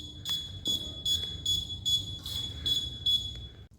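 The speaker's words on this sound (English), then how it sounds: "the buzzer will start beeping" A laser security system's buzzer beeps in a steady repeating pattern, about eight short high tones in under four seconds, clear and fairly close over a low background hum.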